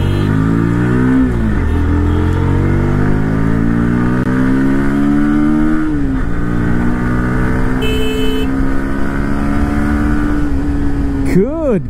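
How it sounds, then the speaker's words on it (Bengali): A Bajaj Pulsar NS 160 OBD2 motorcycle with a 160.3 cc engine is ridden on the road, its exhaust rising in pitch through repeated accelerations and gear changes, loud and close throughout. "এবার বাইকটা চালিয়ে দেখা যাক অ্যাকচুয়াল লোড কন্ডিশনে"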